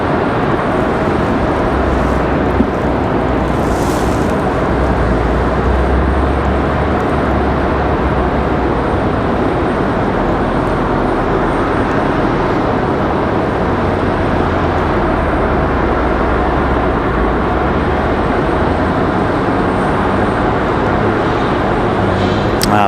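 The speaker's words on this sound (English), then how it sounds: "Got a CRJ, looks like, ready for departure from 23 right." CRJ jet departing from runway 23 right at Raleigh-Durham, a sustained, loud rumbling roar of jet engines at a distance, holding steady throughout with brief faint voices underneath.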